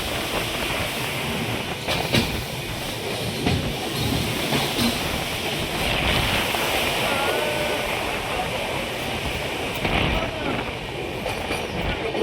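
A train running on the line after leaving Malda railway station, heard from on board as a loud, continuous rumble with rhythmic clatter and rattling carriage noise, with voices in the background.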